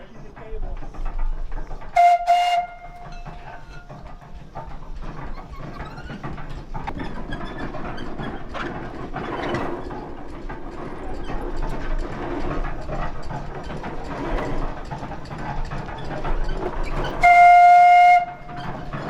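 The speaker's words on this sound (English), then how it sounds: "the machine we have behind us is a 1908 Dolbeer steam logging machine" A large 1908 Dolbeer wood-fired steam logging engine chugs and rumbles steadily, with two short, loud whistle blasts, one near the start and one near the end.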